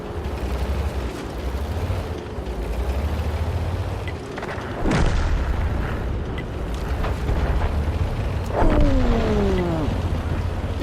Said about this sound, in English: Big rounds going in on the enemy there.